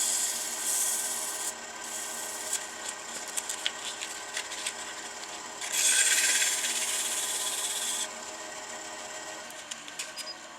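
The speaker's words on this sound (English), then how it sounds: "sanding." Light, steady rubbing of 600-grit sandpaper on a wooden pepper mill in close-up, with rhythmic scraping strokes and a brief stretch of harsher, faster sanding.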